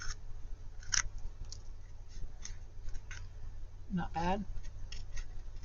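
Scissors snipping through material while making a pink Barbie bucket, a few faint, sharp isolated clicks spaced out over a quiet background, with a brief spoken remark partway through.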